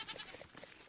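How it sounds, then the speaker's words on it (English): A baby goat in the Minecraft video game bleats in short, repeated nasal cries packed into under a second, fairly clear and close with no talking. "A baby goat!"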